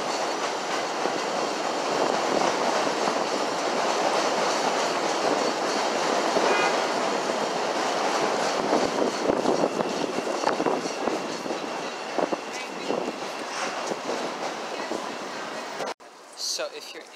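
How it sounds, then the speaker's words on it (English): A Chicago L train rumbles past on a very cold day, a loud, close, continuous roar with clattering wheel noise that fades toward the end before a brief cut. "we're gonna see if we can see some more L trains."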